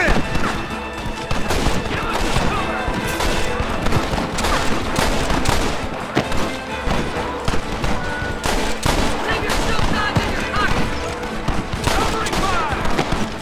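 Dense, continuous shootout gunfire in the video game Red Dead Redemption, with many overlapping shots and cracks forming a loud, unbroken barrage, and shouting voices mixed in.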